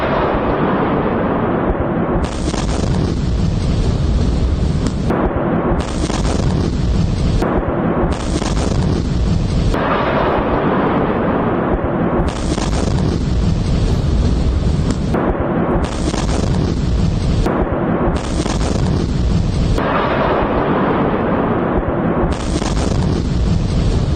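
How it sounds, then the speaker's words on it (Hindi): Iranian missile strike on Tel Aviv near a large building, caught in news footage: a loud, sustained roar of blast noise that fills the whole stretch with no talk. "इजराइल में ईरानी मिसाइल गिरी।"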